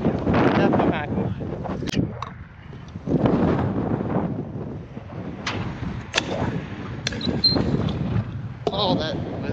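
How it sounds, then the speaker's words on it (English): Winter wind buffets a microphone outdoors during a scootering session, giving loud gusting rumbles that come and go in waves. Faint voices sit under the noise. "it's a little windy"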